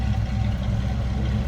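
A 1970 Ford Mustang Grande coupe's 302 V8 with stock cam and exhaust idles behind the car in a steady, even low-pitched rumble with a gentle pulsing burble, heard alone without voices.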